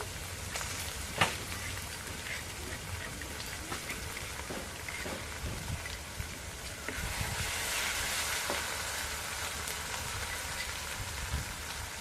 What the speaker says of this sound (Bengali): আর এখানে আমি যখন পেঁয়াজ রসুন আর আদা বাটাটা একটু কষিয়ে নিয়ে আসি কাঁচা গন্ধটা চলে যাওয়ার জন্য